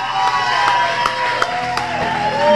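A concert audience cheers and claps together for the band, a steady wash of applause with whoops, fairly loud and continuous.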